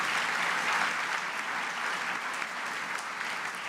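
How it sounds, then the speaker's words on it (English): Steady, dense applause from the audience at a women in business awards ceremony, fairly soft and even for a few seconds with no talking. "You deserve the loudest round of applause"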